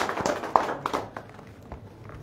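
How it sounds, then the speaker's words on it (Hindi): Scattered hand claps and taps greet Priya Sethi at a BJP gathering in Jammu and Kashmir as she takes charge, a sparse, uneven patter of claps rather than sustained applause, with murmuring around. "हाँ तालियों से इस्तकबाल करें।"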